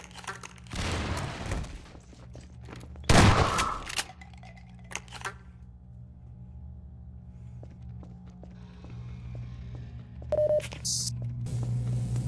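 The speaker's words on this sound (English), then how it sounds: "Grenade." Grenade blast and gunfire in the Half-Life 2 prison-break level: two loud broadband bursts early on, then scattered sharp game effects over a low steady hum, with no speech during the clip.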